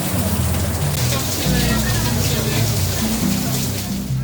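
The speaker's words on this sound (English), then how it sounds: "as it began to pour rain" Heavy rain pours steadily outside an enclosed restaurant seating area in Rome, a dense continuous hiss that stays loud and even throughout, with low indistinct voices and murmur underneath.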